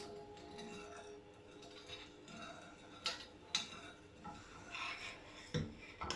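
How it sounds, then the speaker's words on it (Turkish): A spoon stirring plum-sauce pudding mixture thickened with starch in a pot, faint irregular scraping and light taps against the pot, soft and close, with no voices. "Karıştırmaya devam ediyoruz."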